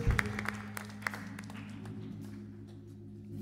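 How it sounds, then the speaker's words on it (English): A church congregation applauds in praise at an Easter sunrise service. A brief burst of scattered hand claps dies away quickly, leaving a faint, steady low hum. "Let's give God a hand clap of praise."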